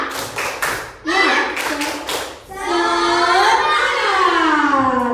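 Children perform a rhythmic clapping cheer in a classroom, a few sharp group claps and chanted calls followed by a long sung syllable from the young voices.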